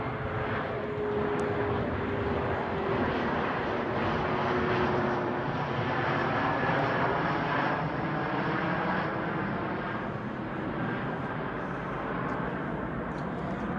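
A propeller-driven or jet airplane passes overhead on its way toward Detroit, a loud steady engine roar with a slowly falling drone that fills the whole stretch, no voices.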